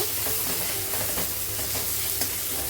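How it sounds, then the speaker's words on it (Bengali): Tomato stirred into onions fried deep red in a pan, giving a steady low sizzle with soft scraping strokes of the spoon throughout, fairly quiet and with no talking. "পেঁয়াজটা লাল লাল করে ভেজে নিয়েছি, এখন টমেটোটা অ্যাড করে দেবো, দিয়ে এটাও নাড়াচাড়া করব।"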